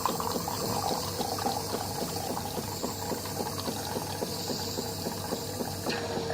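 A Kalerm Quarza coffee machine dispenses hot milk with a steady gurgling, pumping liquid flow and a low mechanical hum, continuous and close throughout with no talking.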